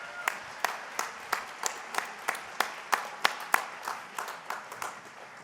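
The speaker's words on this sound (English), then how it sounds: "Please join me in a round of applause for the leadership of Central Washington University." Sparse applause from a university commencement ceremony audience, a slow run of about a dozen distinct, fairly faint claps spaced evenly apart, heard alone without any voices over them.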